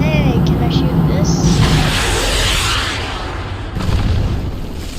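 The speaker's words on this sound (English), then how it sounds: "No, that just shoots the ground." A weapon is fired at the ground in the video game Teardown, making a loud, continuous booming rumble with whooshing blasts that swell and fade over the whole stretch, dense and close.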